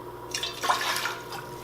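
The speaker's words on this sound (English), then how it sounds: "and then pouring a splash of white vinegar" A splash of white vinegar poured from a container into a pot already holding some tap water, giving a quiet, brief liquid pour that trickles and splashes for about a second.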